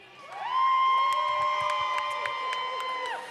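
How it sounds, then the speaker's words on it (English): A roller derby crowd supporting Battersea cheers and whoops loudly at a Five Nations bout, a swelling mass of shouts that rises quickly and holds, with sustained electronic tones and sharp clicks ringing over it. "Give us a cheer if you're here for Battersea."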